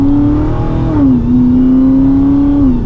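Dodge Challenger SRT Super Stock with a supercharged engine and exhaust, a loud steady close-up drone with a slight pitch dip and rise, alone without talk.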